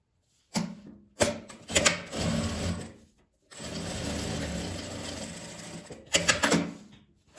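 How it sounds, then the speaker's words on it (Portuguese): Sewing machine stitching lining fabric face to face, running in several close bursts separated by short pauses, with one long steady run in the middle. "Vou pregar um tecido de forro,"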